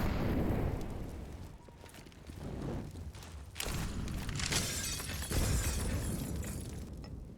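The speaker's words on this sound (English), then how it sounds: "Oh, look at the early nades that went up towards ENCE. Quite a bit of damage done." Grenades burst one after another in a CS:GO match on the Train map, with sharp bangs and crackling debris spread through a continuous noisy wash of game effects.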